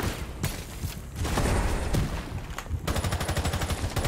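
Rapid bursts of Rainbow Six Siege gunfire, sharp repeated shots and a fast machine-gun rattle near the end, loud and close.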